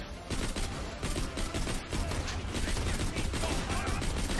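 Rapid shots from a Hyperion pistol in Borderlands: The Pre-Sequel, a steady stream of crackling gunfire with mechanical clatter, continuous and moderately loud, with faint talk underneath.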